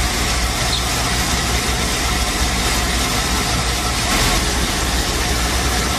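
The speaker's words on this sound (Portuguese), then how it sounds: "Pode ver que pela aceleração do carro, ele não engasga, não tosse, não faz nada." A retro car engine with self-programmable fuel injection runs loud and close in a steady, even rumble without stumbling, while someone talks over it.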